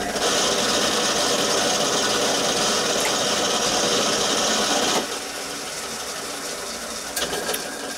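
A metal lathe spins a workpiece offset in a four-jaw chuck while parts are made for a Gauge 1 live steam locomotive, a loud steady mechanical whirr and rattle that drops to a quieter hum midway.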